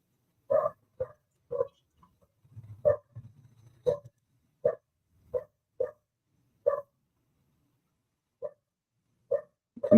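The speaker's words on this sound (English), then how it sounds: "Can you hear that dog barking?" A dog barks repeatedly, single barks spaced a second or so apart, fairly close, with a low growl-like rumble partway through and no voices.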